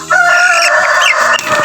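A free-range rooster crows loudly and close, one long drawn-out crow that fills the whole moment.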